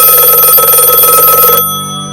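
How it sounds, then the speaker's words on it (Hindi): A loud electronic telephone ring trills steadily, then cuts off, leaving a fading ringing tail. "अगले दिन घर का फोन बजता है।"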